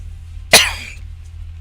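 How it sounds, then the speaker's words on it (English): A single sharp cough from one person with an irritated throat, short and close, followed by quiet and a faint trailing click. "There's something just irritating my throat."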